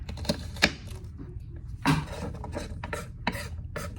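Knife slicing through cooked steak on a board in a home kitchen, giving a few sharp clicks and scraping cuts spread over several seconds, close and moderately loud, with no talking.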